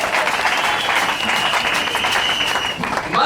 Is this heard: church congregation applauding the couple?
yes